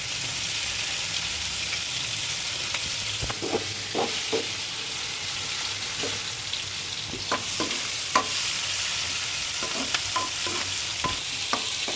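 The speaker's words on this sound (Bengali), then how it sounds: "তেল গরম হয়ে গেছে। দিয়ে দিচ্ছি মোটা মোটা করে কেটে রাখা পেঁয়াজ।" Thickly cut onions dropped into hot oil sizzle steadily and close up, with occasional clicks and scrapes of stirring throughout.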